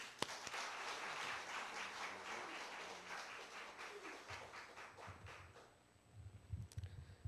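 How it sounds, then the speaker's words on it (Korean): Church congregation applauding to welcome the pastor, a fairly faint, sustained patter of many hands clapping that fades out after about six seconds, followed by a few low thumps. "목사님 박수로 맞이합시다"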